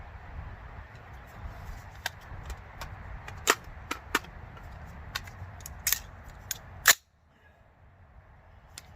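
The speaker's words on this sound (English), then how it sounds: "Let's shoot these last 5 rounds off" Rounds of Wolf ammunition are fired outdoors. Sharp, cracking reports sound at uneven intervals among smaller clicks, and the last shot is the loudest before a quiet tail.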